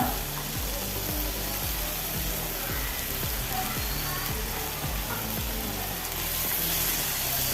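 Chopped tomatoes frying in a pan for egg bhurji, a steady dense sizzle with rhythmic scraping strokes from stirring throughout, close and constant.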